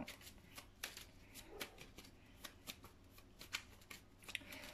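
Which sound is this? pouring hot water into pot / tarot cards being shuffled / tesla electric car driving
tarot cards being shuffled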